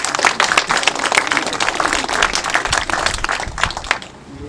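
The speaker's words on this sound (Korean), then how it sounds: "간사들한테 수고했다고 한번 박수라도 한번 보내주시죠" Audience applause at an annual general meeting of a Korean photographers' association chapter in Incheon, a dense burst of clapping from many people that fades out near the end.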